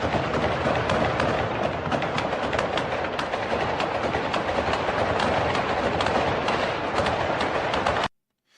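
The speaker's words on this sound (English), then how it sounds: "Here's the sound of that firefight once again occurring" Dense, continuous crackle of gunfire from a firefight in the Russia-Ukraine war, with sharp repeated reports throughout, loud and steady, cutting off abruptly near the end.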